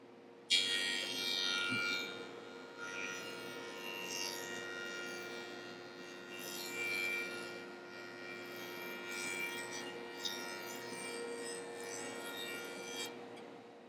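Steady rasping carbide-tooth saw cutting through wood, a continuous gritty scrape with slight surges over several seconds, close by and with no voices.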